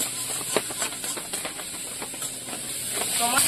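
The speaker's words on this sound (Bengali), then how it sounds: "আমার উচ্ছে ভাজা কিন্তু হয়ে গেল" Bitter gourd slices frying in a pan, a steady close hiss with faint sizzling crackle and occasional soft clinks throughout.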